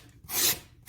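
Freshly cut edge of half-inch EVA foam sanded in a single short, close rasping stroke, rising and fading within half a second.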